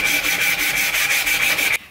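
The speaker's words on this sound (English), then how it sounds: "I've got a little orbital sander, so I'm just going to shoot down the top of the wood." A small orbital sander runs across the top of a piece of New Zealand native timber for a wooden toy, giving a loud, close, steady buzzing rasp with a slight pulsing before it stops abruptly.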